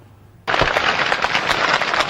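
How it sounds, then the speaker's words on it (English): Heavy gunfire exchange at the Kenya-Somalia border town, bursting in abruptly after a quiet moment into a loud, dense stream of rapid shots and cracks that continues without pause. "a heavy gunfire exchange between Somalia National Army and Jubilant forces rends the air."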